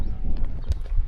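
A horse walks with a guide in the countryside near Tunkhel, Mongolia; its hooves strike in a close, uneven clip-clop rhythm over a low rumble, with no talk.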